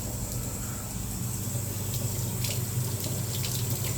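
Hot water runs steadily from a tap after a Biasi Riva Plus boiler repair, a continuous splashing rush into a sink with faint intermittent clinks and no speech.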